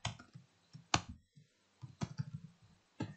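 Quiet, close computer keyboard typing as code is entered, with irregular bursts of crisp key clicks separated by short pauses.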